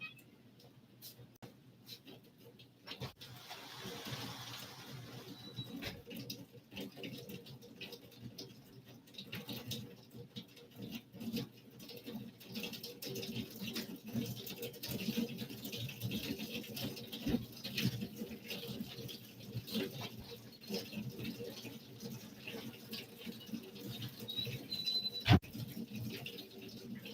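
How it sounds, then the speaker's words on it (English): Heavy rain pours outside and patters on an air conditioner, a dense crackling patter that builds gradually and stays fairly faint and steady, with one sharp tap near the end. "but it is pouring out there"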